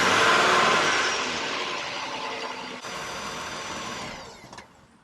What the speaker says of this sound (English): I'm going to go ahead and start the engine, let it run a little bit to cycle and fill the oil filter